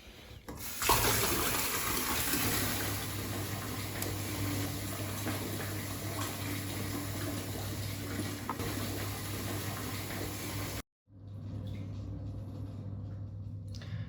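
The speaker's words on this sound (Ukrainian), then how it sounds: "Зараз я добавлю туди гарячої води і прийму ванну." Hot water pours steadily from a tap into a bathtub in a home bathroom, a loud, continuous rushing stream with a low hum that breaks off briefly before resuming.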